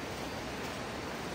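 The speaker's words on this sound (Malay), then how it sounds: "Ombak dia agak kuat" Strong sea waves wash steadily onto a beach at high tide on Pulau Mawar island near Mersing, a constant loud roar of surf with no break and no voices.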